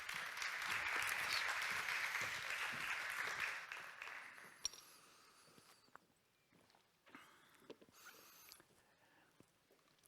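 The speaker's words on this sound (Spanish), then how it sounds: "Un fuerte aplauso para él" Applause from a conference audience welcoming a speaker, loud dense clapping that fades after a few seconds into quiet room noise with scattered taps and shuffles.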